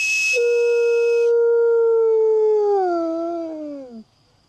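Wolfdogs give a single long, steady howl that holds its pitch for several seconds, then wavers and slides downward before cutting off, with a brief high human whistle at the start.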